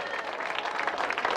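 Brief burst of audience applause for a man named Marco at the Lindenthaler Flair 2023 event, dense continuous clapping from a crowd filling the whole moment.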